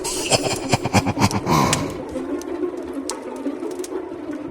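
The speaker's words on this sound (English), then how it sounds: "Oh God, it's a bird." A bird calls with cooing, pigeon- or dove-like notes at a front door, a series of close, fairly loud pulses at first, then thinning into softer calls over a steady background.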